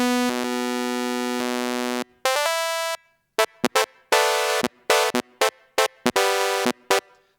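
A synthesizer plays a buzzy pulse-width-like tone, first as one long sustained note, then as a string of short, choppy bursts broken by silences.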